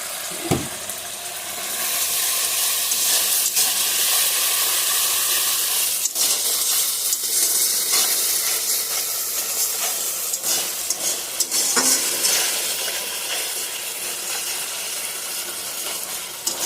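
Soybean and ground spices, including turmeric and salt, fry together in a pan with a loud, steady sizzle and hiss, broken by occasional stirring scrapes and light clinks, with no talking.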